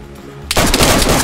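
Gunfire in DayZ, a sudden loud volley of rapid shots that breaks out of near silence and keeps going as a dense, close burst.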